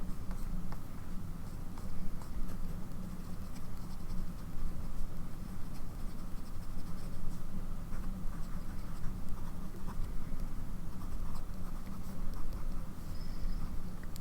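A fountain pen nib scratches steadily across Maruman paper while writing in black ink, a close, continuous dry scratching texture with no voices.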